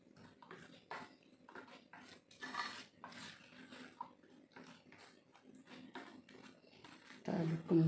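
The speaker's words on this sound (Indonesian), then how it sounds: "Kita aduk kembali." Egg batter being stirred in a bowl, with irregular light scraping and tapping of a utensil against the bowl and a louder clatter near the end.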